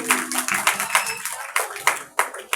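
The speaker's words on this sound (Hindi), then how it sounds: "जोरदार तालियां बेटी के लिए।" An audience claps for a girl at a children's 14 August school program. Quick bursts of close clapping come in uneven clusters, mixed with voices talking.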